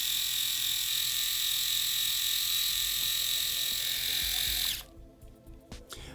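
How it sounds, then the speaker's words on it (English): A Phisco RMS8112 electric shaver with dual cutters runs with a loud, steady high-pitched whine for nearly five seconds, then cuts off abruptly, leaving a few faint clicks and handling noises. "this is the sound of the shaver when you turn it on"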